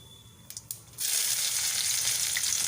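Chopped onion and green chillies dropped into hot oil after a few soft clinks, bursting into a loud, close, continuous sizzle.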